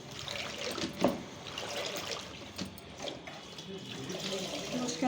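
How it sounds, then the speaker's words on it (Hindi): A Milton Spot Zero Super Safai spin mop is washed in a bucket of water, giving steady sloshing and trickling with a few splashy bumps, fairly quiet and close. "इसको इसी पानी में आप आराम से इसे वॉश कर लीजिए"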